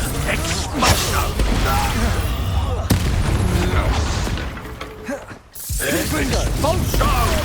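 Spell combat effects from Hogwarts Legacy, with dense blasts, cracks and clattering impacts in steady succession throughout, loud and busy, briefly dropping away near the end before resuming, with a voice shouting over the action.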